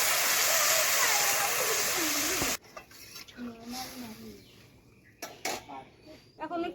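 Water pours into a hot pan of crab curry masala, a loud rushing, sizzling burst for about two and a half seconds that cuts off abruptly, followed by quieter kitchen clatter and a voice talking.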